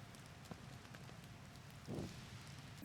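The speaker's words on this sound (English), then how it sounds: "it's raining" Steady soft rain falls in the Zelda: Tears of the Kingdom game world, a constant gentle hiss with a faint patter and a brief low thump near the end, no voices.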